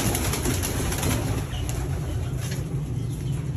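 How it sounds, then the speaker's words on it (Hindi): Pigeons cooing and flapping near parrot houses, a loud close wash of soft coos and wing rustles that persists throughout without any talking. "तोतों के घर पड़े यहाँ कबूतर बैठ जाते हैं"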